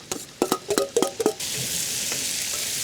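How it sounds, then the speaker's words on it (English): Onions dropped into hot butter in a pan, with a few stirring clatters of a utensil at first, then a steady, close sizzle of frying that carries on alone without talk. "Let's get our onions in here."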